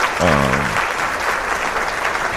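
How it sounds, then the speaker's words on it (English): A short burst of applause and hand clapping for a baseball team, steady and moderately loud across the whole moment, with a brief voice near the start. "Let's give the Giants a hand clap over there."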